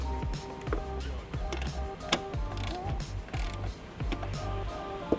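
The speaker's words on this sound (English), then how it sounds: "We'll take our ratchet, just hit them once, just to make sure that they're good and snug." Ratchet snugging bolts during a trailer wiring install on a 2017 Chevy Equinox, a series of close, sharp metallic clicks and clanks in uneven bursts over a low mechanical rumble.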